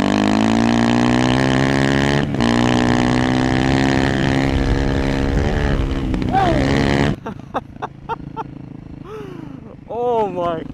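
A Honda CRF300 dirt bike with tuned ECU, airbox and exhaust revs hard and loud, a buzzing engine note that rises in pitch for several seconds, then drops into a string of short throttle blips and revs.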